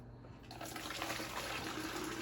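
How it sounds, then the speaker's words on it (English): Lavender simple syrup poured through a mesh strainer into a pitcher makes a quiet, steady trickle and splash of liquid that builds slightly after a soft start. "And you want to pour that into your pitcher."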